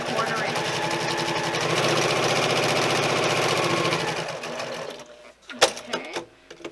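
A sewing machine stitches a quarter-inch seam in fabric for a zippered cosmetic bag, running as a fast, steady whir for about five seconds, then stopping, followed by a few close handling clicks and taps.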